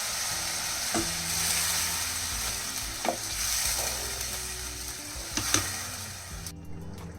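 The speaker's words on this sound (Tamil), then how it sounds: "அதையும் இது கூட சேர்த்துட்டு நல்லா வதக்கி விட்டுக்கலாம்" Onions and paste sizzle steadily in a hot pan while a utensil scrapes and stirs, with a few sharper clacks against the pan every couple of seconds.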